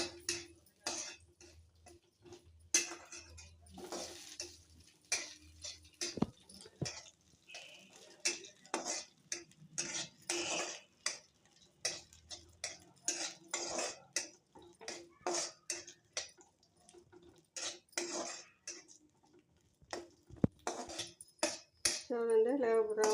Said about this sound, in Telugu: జీడిపప్పు, బాదం పప్పు, వేసుకొని లైట్గా వేసుకుంటున్నాను.